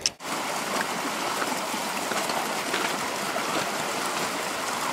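River water flows steadily at Sioux Charley Lake, a wide spot in the river, giving a continuous broad rushing wash after a brief knock at the start, with no voices.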